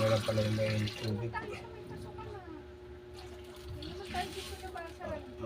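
Hot water poured into a cooking pot for a miso sinigang broth, a steady liquid stream running for about a second and then trailing off into quieter splashing and kitchen clatter.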